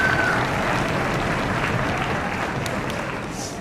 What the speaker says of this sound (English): A round of applause for all of those third grade orchestra students and for Mrs. Langer.